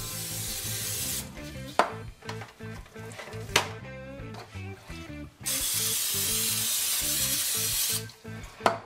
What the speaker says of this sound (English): we're gonna take a little bit of this Pam made with canola oil and liberally spray it